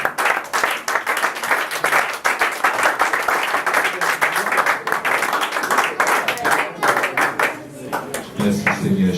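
A church congregation clapping and cheering in praise during a French-language worship service, loud sustained applause that fills the room, with voices calling out among the claps.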